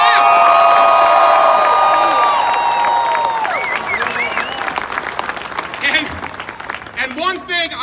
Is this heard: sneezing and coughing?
no